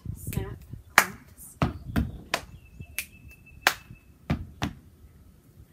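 Body percussion pattern of thigh pats, finger snaps, hand claps and foot stomps, repeated in a steady rhythm of sharp, close hits with a faint background tone.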